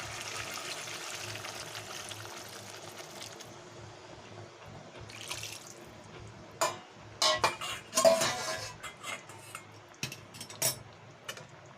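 A metal spoon stirs chicken liver and stomach curry in a pot after hot water has been added. Soft liquid swirling gives way to a run of sharp, irregular clinks and scrapes against the pot, close and fairly loud.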